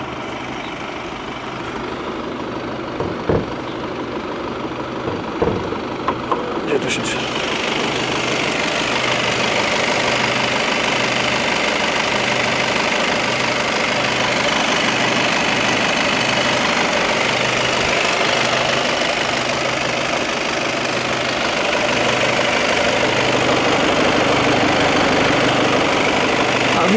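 A 2015–2016 VW Passat B8 with a 2.0 TDI 150 hp diesel engine idles steadily and loudly up close, with a rhythmic low diesel clatter after some early clicks and handling noises, and a brief voice early on.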